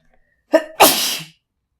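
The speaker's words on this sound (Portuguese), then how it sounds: "Peraí que eu vou espirrar." One loud, close sneeze with a quick intake of breath before the explosive burst, alone in a quiet space during a Portuguese Bible reading.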